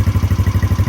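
A Polaris Outlaw 70 EFI youth ATV engine idles close up with a steady, rapid low putter, each exhaust pulse evenly spaced in a quick, regular rhythm.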